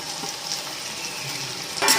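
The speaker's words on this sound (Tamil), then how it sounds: "நமக்கு நல்லா சுண்டைக்காய் வந்து வெந்துக்கிட்டு இருக்குது" Turkey berries (sundakkai) fry in oil for a pickle, giving a steady close sizzle and crackle with light stirring scrapes, and a louder burst of spatter right at the end.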